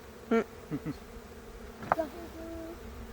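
Honey bees hum around an open beehive, a low background buzz under a few short, close vocal sounds and faint murmurs.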